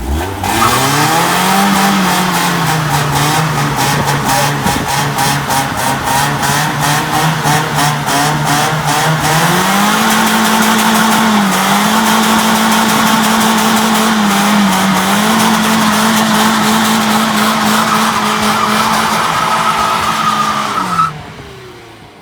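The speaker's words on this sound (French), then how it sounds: "j'ai réussi à burner" A BMW E36 does a burnout with its rear tires spinning, its engine droning loud and steady while the tires hiss and squeal continuously for around twenty seconds, the pitch rising briefly once before the sound cuts off.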